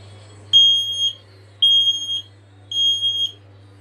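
Household smoke alarm sounding during a test: three loud, piercing electronic beeps, each about half a second long, evenly spaced with short quiet gaps, heard alone.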